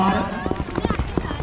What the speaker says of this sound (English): dozens and dozens of horses out here.